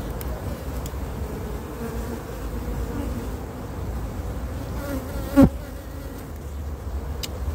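Honeybees buzzing at an opened hive with brood, a dense steady hum near and constant, with one brief sharp click midway.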